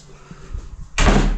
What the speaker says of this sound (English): Oh, nearly took the door off the hinges.